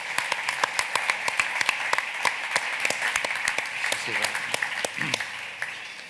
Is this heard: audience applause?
yes